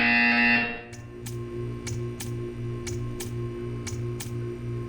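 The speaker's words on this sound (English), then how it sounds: "You will hear a buzzer." A buzzer sounds in the video game Portal 2 after a loud tone cuts off: a regular series of short, pulsing buzzes with clicks over a steady electronic hum, about eight beats in four seconds.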